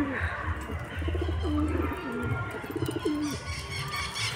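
A pigeon coos nearby in a household loft, several soft, rolling calls repeating over a low background rumble.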